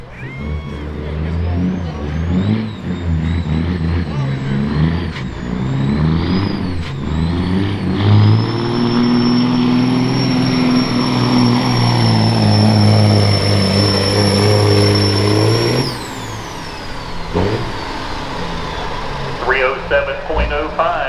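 1998 Kenworth W900L truck pulling a sled at a truck pull, its engine building to a loud, sustained roar with a high whine before cutting off, while an announcer talks over it.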